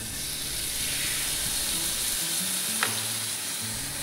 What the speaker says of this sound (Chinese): 这种超厚的牛排用牛排机来煎